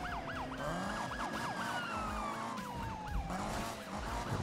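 Police car siren in the Need for Speed 2015 racing game, a loud continuous wailing and yelping siren sweeping up and down over roaring engine and skidding tires during a pursuit.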